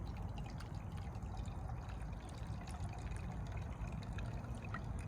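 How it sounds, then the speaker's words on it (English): Water pours from a coffee pot outdoors in the woods as a steady, soft trickling stream that continues evenly throughout, faint against the quiet surroundings. "you can pour water like this"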